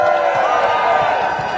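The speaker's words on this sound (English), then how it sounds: "Please, big round of applause." A crowd at a vaping-advocacy rally at Queen's Park cheers and applauds, sustained and dense, with voices whooping over a broad roar throughout.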